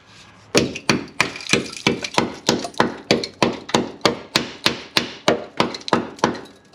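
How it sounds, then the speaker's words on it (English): A hammer bangs repeatedly on the rusty rear wheel well of a car on the passenger side, about twenty loud, close, evenly spaced blows in a steady rhythm with no talk. "Let's bang it with the hammer."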